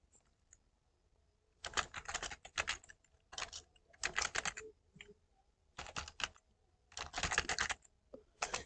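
Keystrokes on a computer keyboard while entering an address into an Excel sheet, coming in quick clustered bursts separated by short pauses, close and clear with no talking.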